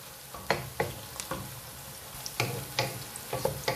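Onions fry in a pan with a low, steady sizzle, broken by several soft scraping stirs at irregular intervals, close up and fairly quiet.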